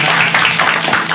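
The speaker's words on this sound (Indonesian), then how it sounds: "Tepuk tangan lagi boleh." Live studio audience at a music broadcast bursting into applause, a short, loud, dense wash of many hands clapping together.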